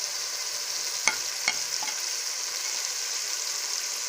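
Tomato masala with chili powder for potato curry fries with a steady close sizzle, while a spoon scrapes the pan in two or three light knocks.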